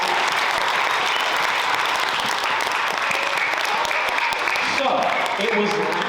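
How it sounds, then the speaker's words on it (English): An audience at a school band concert applauds the 4th grade band, a loud, dense patter of clapping that runs throughout, with a voice speaking over it toward the end. "let's give one more round of applause to our 4th grade"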